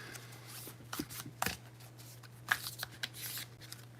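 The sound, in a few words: shuffling archetype cards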